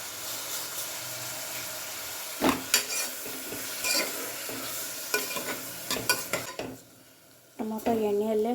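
Chopped tomatoes stirred and cooked in a pan for mint rice, giving a soft sizzle with close scrapes and metal clinks of a spoon against the pan. A brief quiet gap comes near the end before the sizzle resumes.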